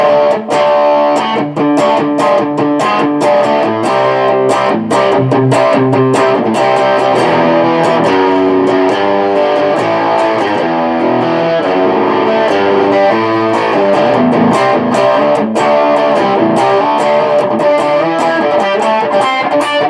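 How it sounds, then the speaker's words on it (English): An electric guitar plays through an Orange Super Crush 100 amp with overdrive distortion, loud and continuous, with chords and picked notes that keep a driving rhythm throughout and no talking. "but this is plenty of distortion for me."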